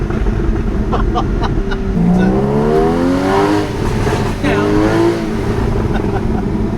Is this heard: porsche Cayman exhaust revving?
yes